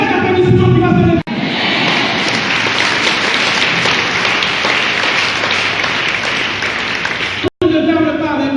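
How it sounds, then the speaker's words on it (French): Applause fills a church during a teaching session, with loud sustained clapping and crowd noise that runs for several seconds with brief breaks, while voices sound over it. "Le tonnerre d'applaudissement qui va se lever."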